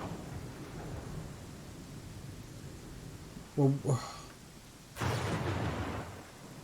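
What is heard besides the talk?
thunder and lightning storm in the video game Pathfinder Kingmaker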